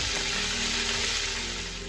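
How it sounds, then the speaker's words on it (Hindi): Mutton frying in a pan over medium heat with no water added, a steady broad sizzle with faint crackle throughout, close and continuous with no talking. "और फिर उसके बाद इसको फ्राई करेंगे।"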